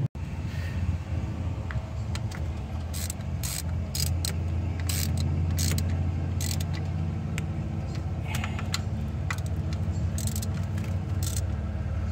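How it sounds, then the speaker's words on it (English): Ratcheting and metallic tool clicks come in brief bursts while 13 mm bolts are fastened on the throttle body of a 1996 second-generation Dodge Ram 5.2, over a steady low engine-bay or shop hum with no talk. "getting all 4 of those 13 mil bolts put in place."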